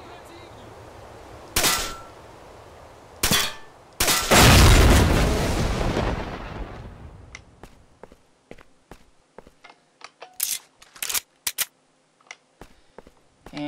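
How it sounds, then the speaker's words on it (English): A red explosive drum in the game Stalker blows up after a suppressed pistol shot, a single loud, deep boom with a long rumbling tail that fades over a couple of seconds, followed by scattered sharp clicks and footsteps. "Pull out our trusty suppressed pistol, and instead of shooting him,"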